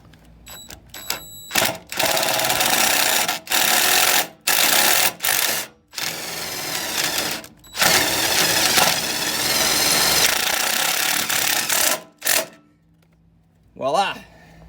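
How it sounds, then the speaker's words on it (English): Power driver running self-tapping screws through a 3/8 socket into a Jeep Wrangler JKU inner fender liner, several loud whirring bursts separated by brief pauses, close by with no talk. "So the self-tapping screws that come with it are in with a 3/8 socket."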